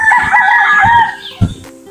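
Native chickens crowing nearby on a farm range, a loud drawn-out cock-a-doodle-doo filling most of the moment, followed by a short sharp cluck or thump near the end.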